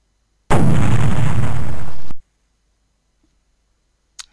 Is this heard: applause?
no